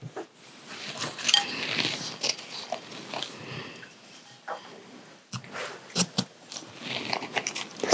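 A knife slices through a raw, sprouted potato at close range, giving repeated crisp, wet crunches in an uneven rhythm with light clinks against a board.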